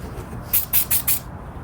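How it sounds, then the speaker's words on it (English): Adhesive promoter is sprayed from an aerosol can in four quick, close bursts, each a sharp hiss, during spoiler installation on a 2025 Honda Civic Si. "all you do is spray it on there you spray it on"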